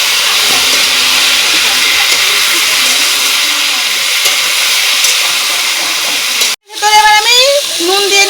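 Mango pieces dropped into hot oil with black mustard seed tempering for a mango chutney, giving a steady loud hiss of frying that cuts out briefly and bursts back into sizzling as the pieces go in.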